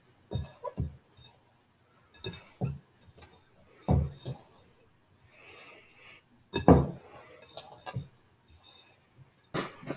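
Homemade bath bomb ingredients being stirred in a bowl, with scattered scraping, tapping and clinking strokes of uneven rhythm, faint and close, separated by quiet gaps.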